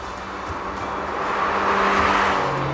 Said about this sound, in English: The exhaust might annoy you.